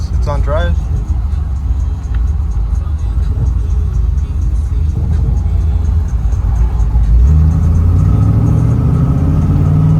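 A 1979 Camaro Z28 with a freshly swapped transmission drives along in first gear, its engine holding a steady, loud mid-pitched drone that climbs slightly in pitch toward the end, with a voice briefly heard over it.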